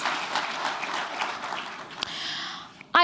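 Audience at an African urban forests forum applauding its partners, a dense wash of many hands clapping in a hall, fairly loud and sustained before tapering near the end.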